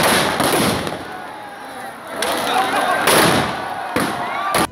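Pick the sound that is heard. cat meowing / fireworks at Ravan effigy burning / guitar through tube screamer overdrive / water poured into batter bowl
fireworks at Ravan effigy burning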